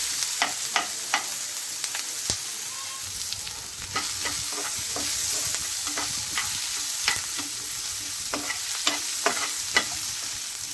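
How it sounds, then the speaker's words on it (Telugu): Egg stuffing frying and being stirred in a pan, a steady close sizzle running throughout with frequent sharp spatula taps and scrapes in an uneven rhythm. "బాగా మిక్స్ చేసుకుని బ్రౌన్ కలర్ వచ్చిందా ఫ్రై చేసుకోవాలి"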